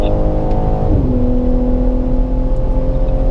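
Engine of a car on the Circuit of the Americas track, accelerating at full power out of the final turn after the back straight; a loud, steady high-revving drone with a pitch shift around one second, close and continuous throughout.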